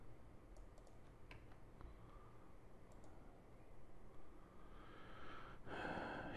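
Computer keyboard typing on a PC running a serial console, quiet rapid keystrokes in short irregular bursts with a few louder clicks near the end, no talking.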